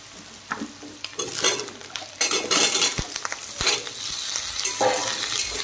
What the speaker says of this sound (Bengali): আলুর সাথে কিন্তু পেঁয়াজ আরও একটু ভালো করে ভাজা হয়ে যাবে।